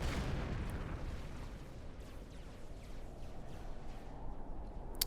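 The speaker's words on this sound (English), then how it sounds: "Couple of bomb or Brackman shots are connecting with these tanks here." Bomb and Brackman shots strike tanks in a real-time strategy battle, heard as quiet, muffled rumbling explosions blending into a continuous low roar, with a faint sharp crack at the very end.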